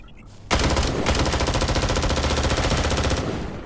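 Assault rifle in the video game Dysterra firing on full auto: a sustained, loud, rapid stream of evenly spaced shots that begins abruptly and runs unbroken for about three seconds before easing off.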